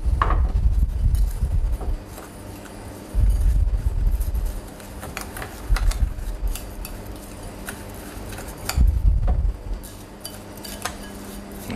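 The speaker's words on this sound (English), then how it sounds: "And then we're going to stir it all in." Stirring a pink mixture in a pan in a restaurant kitchen, metal utensil scraping and clinking against the pan in repeated bursts, fairly close.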